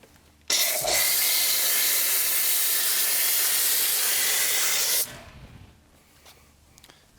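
Bilt Hamber Auto-Wheel cleaner is blasted from a foam cannon onto a dirty car wheel in a steady, loud hissing spray lasting about four and a half seconds, then cutting off to quiet with faint dripping.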